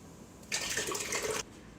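Canned crushed tomatoes pour into a pot of Jamaican jerk chicken chili as a steady, close, wet liquid rush lasting about a second before stopping.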